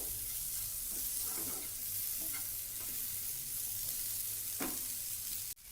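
Tomatoes sauté in a pan with onion for a Kerala cauliflower curry, a soft, faint sizzle running throughout with occasional light spoon scrapes. A sharp handling knock lands at the very end.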